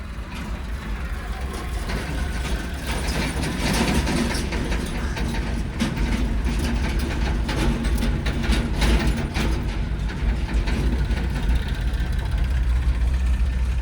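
A car engine runs steadily during a driving lesson, a continuous mid-pitched hum that swells slightly as the car pulls away under light throttle, loud and close with faint talk beneath it.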